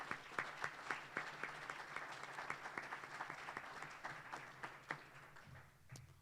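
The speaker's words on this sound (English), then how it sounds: "So I just want to recognize with a round of applause," Light, sparse applause from an audience at an awards banquet: individual claps ring out at an uneven rhythm, fairly faint and without talk, thinning out toward the end.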